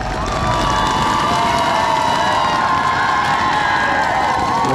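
A large crowd of workers and supporters cheers continuously and loudly at the start of the Run to the Beat 2009 race, a dense roar with a few whistles and shouts carrying over it.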